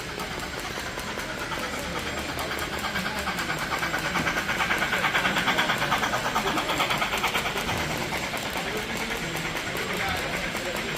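A Halloween-themed model train runs along a layout at a busy scale model train show, a steady clattering rumble with rhythmic clicking of wheels over track under a dense background of crowd chatter and hall noise.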